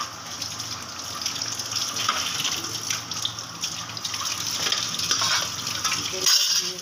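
Raw chicken rinsed under running tap water, a continuous splashing gush with handling noises and occasional clatter, moderately loud and steady throughout.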